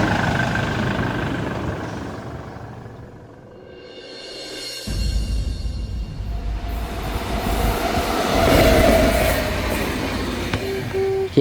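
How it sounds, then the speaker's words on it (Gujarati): A train rumbles past at speed, with the loud rolling roar fading into a brief lull and then surging back as more rail cars rush by close at hand, with no voices. "કેટલી રેલગાડી હાલે હે 150 ની સ્પીડ તો હશે જ તે."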